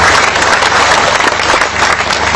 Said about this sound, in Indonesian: Tepuk tangan lagi buat dia.